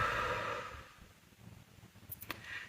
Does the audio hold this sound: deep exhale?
yes